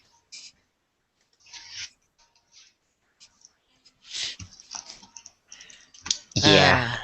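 Scattered computer keyboard keystrokes come in uneven bursts, some hard and hurried, close by, with a voice speaking briefly near the end.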